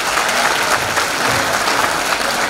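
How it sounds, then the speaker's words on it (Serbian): Loud, sustained audience applause fills a hall at a charity concert in Batočina, honouring a traditional folk orchestra; dense clapping from a large crowd, unbroken and close. "jedan veliki aplauz za orkestar UZNTK Šumadija"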